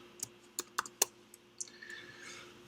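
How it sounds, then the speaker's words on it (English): Computer keyboard typing: a handful of sharp, separate key clicks over the first second or so, close and fairly loud, then a fainter tap and quiet room tone, with no talk. "I'm going to just type in, and you can see all of them."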